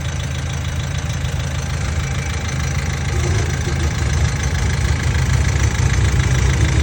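A used car engine runs steadily at a dealer's lot, a loud continuous idle with a deep low rumble and a faint knocking texture, close up with no talking.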